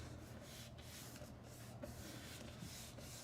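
A bone folder is rubbed repeatedly across paper on a gift bag, making soft, close scraping strokes in a steady back-and-forth rhythm, faint and alone.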